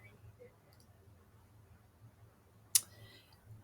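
One sharp mouse click on the Google Forms preview icon rings out near the end, close and distinct over a low, quiet room hum.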